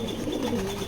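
Low, soft cooing from a big male pigeon with red eyes, a foreign-line bird, rolls steadily through a very short stretch, close and fairly quiet.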